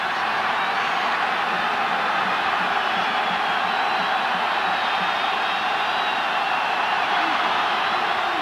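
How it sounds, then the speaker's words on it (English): A large crowd at a college football stadium, Auburn Tigers at Georgia Bulldogs, roars as a steady, dense wash of noise with faint whoops rising through it, constant and loud throughout. "City crowd coming to life"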